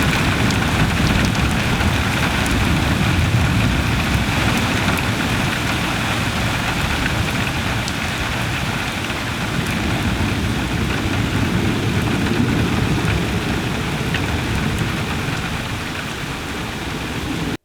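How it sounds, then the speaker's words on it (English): Steady rain falls continuously in a dense, even hiss with no breaks, loud and close, with no speech over it. "It's raining as well."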